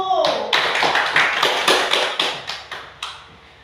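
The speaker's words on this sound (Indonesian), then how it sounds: "Tepuk tangan untuk kelompok 1." A classroom breaks into short bursts of clapping for a student group, a string of close, sharp claps rising and fading in rhythmic waves for a few seconds.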